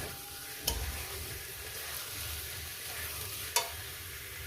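Paneer with coriander leaves, for a vegetarian paneer posto, is stir-fried in a pan with a steady low sizzle and two sharp spatula scrapes.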